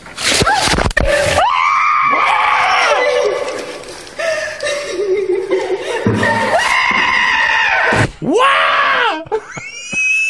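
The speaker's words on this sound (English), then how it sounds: "That scream actually was not the scream by Sarah Palin" A played recording of a loud, sustained human scream, harsh and high, broken into several long shrieks with brief gaps and a final rising wail, nearly filling the clip.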